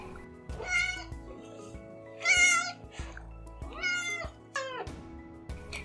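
A cat gives four or five clear, drawn-out meows at close range, each separated by short pauses, over a soft steady background tone.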